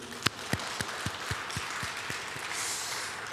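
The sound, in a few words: congregation applauding in church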